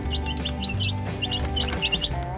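California White and lavender Orpington chicks chirp and peep in a steady, busy chorus of high, rapid tweets, close and overlapping, with no talking.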